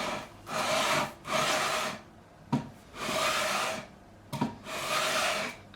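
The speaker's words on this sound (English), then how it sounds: "12-inch radius beam, already got 240 grit on there, and it's just a matter of smoothing off the fingerboard" A 2005 Gibson Les Paul fingerboard is smoothed with 240-grit paper on a 12-inch radius beam, giving four long, rhythmic rasping strokes of sandpaper on wood with short pauses and light knocks between them, close and moderately quiet.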